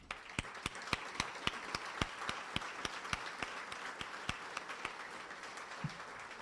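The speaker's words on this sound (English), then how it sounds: "would you all please stand so we can clap for you?" A large audience at a school district's State of the District Address applauds in a steady, even wash, with distinct claps from a few hands close by cutting through at a regular rhythm.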